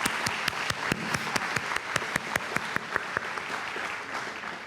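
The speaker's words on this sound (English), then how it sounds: "Please give them a round of applause." Steady applause from a crowd at the Hiawatha State of the City address, many hands clapping continuously with sharp individual claps standing out, fairly close and sustained throughout.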